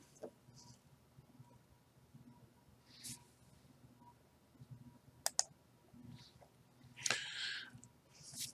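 Computer mouse clicking at a Windows computer during software installation, a few sparse, faint close clicks scattered among quiet room noise, with a louder rustle near the end.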